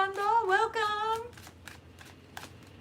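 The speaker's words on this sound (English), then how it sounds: "Spirit wanted a lot of shuffling" Tarot cards are shuffled by hand after a brief spoken voice, giving a run of soft, light riffling clicks and taps at close range.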